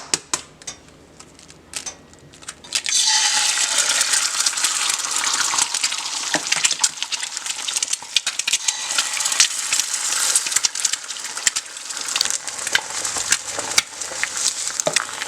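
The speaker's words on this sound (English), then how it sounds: "Now the oil is ready. We're gonna test it with some fried eggs." Eggs sizzle loudly in hot oil in a stainless steel frying pan, a dense crackling hiss that erupts suddenly after a few quiet seconds of light clinks and continues steadily, close by, with sharp spitting pops throughout.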